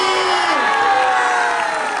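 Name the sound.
church congregation applause and cheering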